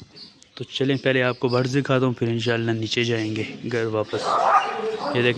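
Dogs bark and yip repeatedly in short bursts while someone talks over them nearby.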